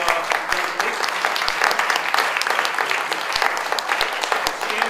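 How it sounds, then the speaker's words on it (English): Audience applause after a panel discussion following a film screening in Chicago, a steady dense clapping from a large crowd sustained throughout with a few sharper individual claps standing out. "Please give a round of applause"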